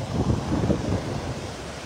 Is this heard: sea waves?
yes